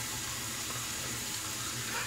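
Steady broadband hiss of water running from a tap, constant and moderately loud throughout.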